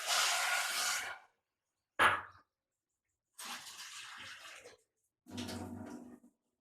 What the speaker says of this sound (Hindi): 2 बाउल भर के हम इसमें पानी डाल देते हैं।